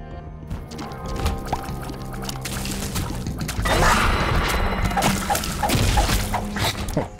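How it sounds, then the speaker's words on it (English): An explosion in The Binding of Isaac: Repentance video game, a loud crashing burst that swells partway through and rumbles on over busy game sounds and music, with no talking. "That was an explosion."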